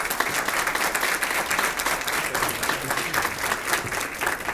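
An audience gives sustained applause to welcome the school superintendent at a district Teacher of the Year program. Many hands clap in a dense, steady roar that stays fairly loud throughout, with no talk over it.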